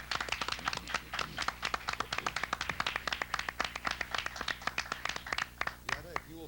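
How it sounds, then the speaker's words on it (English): Brisk, dense clapping from a 1950s studio game-show audience, many sharp hand claps in quick succession sustained throughout, fairly close and lively, with a voice faintly heard at the end. "A little applause for Yetta."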